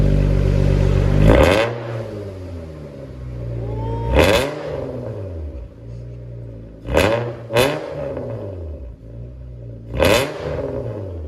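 A 2000 Honda Accord V6 with straight-pipe exhaust blipping hard in four or five loud revs, each rising sharply and dropping back to a rough, rumbling idle, close by.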